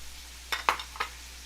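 Onion and celery fry quietly in a pan for brisket beans, with a soft low sizzle and three brief stirring scrapes close by.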